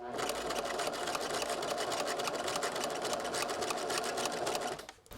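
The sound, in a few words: sewing machine stitching a bolero collar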